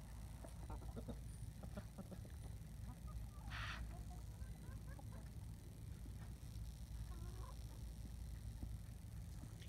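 Young pullets hurrying toward watermelon in a backyard flock give scattered, fairly faint clucks and honk-like calls over a steady low outdoor rumble, with no one talking.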